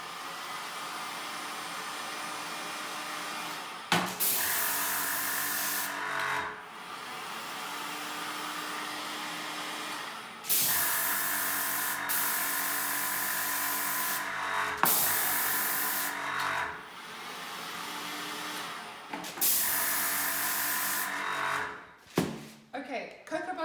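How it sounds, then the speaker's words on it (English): A heat gun blows on chocolate moulds to warm the cocoa butter, a loud steady airy roar running in several long bursts with brief pauses between them, and a clatter near the end. "That's why I've just put a heat gun on to get the cocoa butter coming through."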